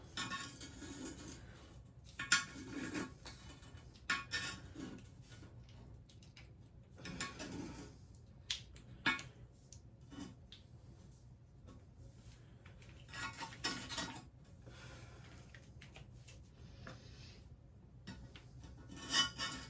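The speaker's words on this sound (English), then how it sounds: "I'm just gonna use a scraper. Pop it off." Scraper prying and scraping an old wax ring off a toilet flange on a bathroom floor, heard as irregular scrapes, rubs and short knocks in separate bursts, fairly quiet and close with no talking.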